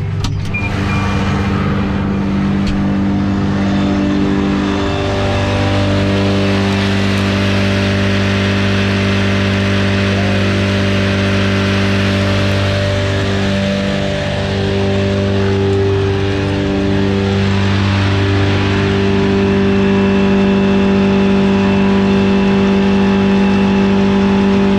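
Tractor engine held at 1000 rpm while driving a mower-conditioner set to maximum, a loud, steady, droning hum with strong harmonics that continues without a break and no speech over it.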